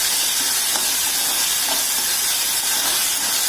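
Tomatoes fry in a hot pan for masala idli, giving a steady, loud, unbroken hiss and sizzle with no talk.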